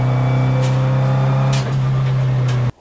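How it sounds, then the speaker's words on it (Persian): A car gearbox with straight-cut dog gears whines loudly and steadily, a sustained tonal drone under road and engine noise, cutting off abruptly near the end. "صدای گیر بوکس"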